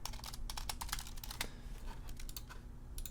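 Rapid clicking of keys on a computer keyboard, a quick run of close taps with a brief pause near the middle, then more typing under a low steady hum.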